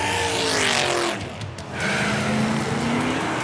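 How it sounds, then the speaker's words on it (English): A cartoon race car tears around the track, its engine roaring close and loud with rising pitch sweeps, briefly easing to a squeal before surging back up. "She's driving so fast, her wheels are going to melt the track."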